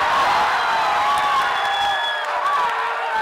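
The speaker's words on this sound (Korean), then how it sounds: "새만금이 호명되자 환호성이 터져나옵니다." A crowd bursts into cheers as Saemangeum is named host of the 2023 World Scout Jamboree at the World Scout Conference in Azerbaijan, a steady, dense roar of many voices with whoops rising above it.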